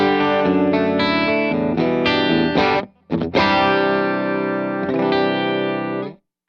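Electric guitar played through a Strymon Iridium amp modeler set to a heavy treble cut, dark muffled distorted chords and notes ringing close in a short phrase with a brief pause midway, no talking.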